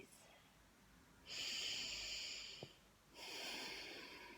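Two slow, deep breaths sound close to the microphone, each a broad airy hiss lasting well over a second with a short pause between, quiet and unaccompanied by speech.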